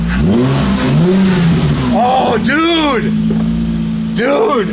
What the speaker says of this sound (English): let me just hear what that exhaust sounds like